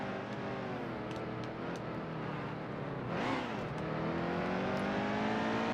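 A NASCAR race car accelerates on the Roval in NASCAR Heat 2, a loud rising engine howl with climbing harmonics, a quick gear-change dip, then revving up again.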